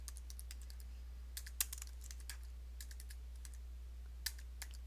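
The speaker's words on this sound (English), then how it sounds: "let's type in your real name" Keys on a computer keyboard are pressed in quick, light bursts with short pauses, faint and close against a steady low electrical hum, with no voices.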